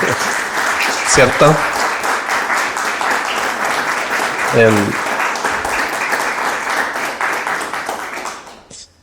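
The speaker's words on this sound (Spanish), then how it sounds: "démosle un aplauso a Beatriz por todo el trabajo que ha hecho" Audience applause fills a Spanish-language panel discussion on history, a dense steady clapping that runs loud for most of the span, tapering near the end, with a brief spoken question and voices breaking through.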